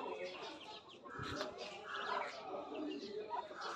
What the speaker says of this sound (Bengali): এখানে একটা সুন্দর একটা মুরগি আছে, ফ্রিজেল